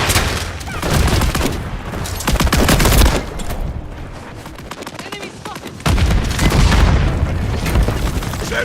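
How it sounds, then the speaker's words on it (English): Dense automatic gunfire in a shooter video game, with a flash grenade exploding in the middle. Rapid loud bursts rattle on almost without pause, ease off briefly, then surge back hard. "Throwing flash grenade!"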